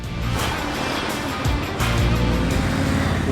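An Indian Chief Dark Horse cruiser motorcycle in its calmer riding mode, its engine giving a steady, loud low rumble while riding with wind noise, the throttle building slightly toward the end.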